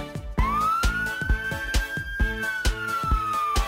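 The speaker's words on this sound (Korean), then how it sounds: "날쌘 도둑 잡는 멋진 경찰차" A rising and falling police car siren tone wails steadily over a repetitive, thumping children's song beat with regular percussive hits.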